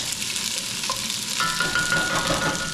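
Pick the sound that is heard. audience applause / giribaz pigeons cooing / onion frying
onion frying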